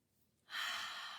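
After a quiet pause, children release one long breathy exhale together during a pretzel breathing exercise with crossed arms, a soft airy whoosh that starts suddenly and fades slowly.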